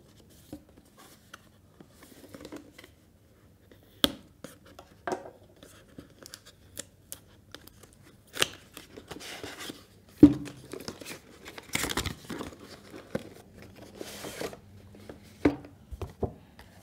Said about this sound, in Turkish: Evet, şu anda kutuyu açıyorum.